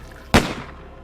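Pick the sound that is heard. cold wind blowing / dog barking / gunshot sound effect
gunshot sound effect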